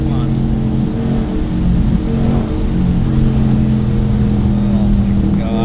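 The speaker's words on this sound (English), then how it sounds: "Look at that. Just instant throttle response." A Dodge Scat Pack fitted with a pedal box throttle, its engine droning loud and steady from inside the car, with someone talking excitedly over it.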